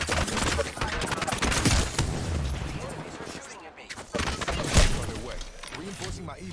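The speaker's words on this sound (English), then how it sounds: "Opening fire on the enemy." Gunfire crackles in the video game Apex Legends, with dense bursts of rapid weapon fire and impacts that continue almost throughout. A character's voice lines play over the shooting.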